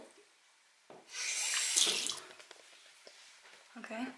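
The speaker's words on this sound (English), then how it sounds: "Okay, the water's been turned back on." Water runs from a household tap into a sink, a steady broadband gush starting about a second in and continuing for roughly two seconds before easing off, with faint indoor sounds around it and no speech.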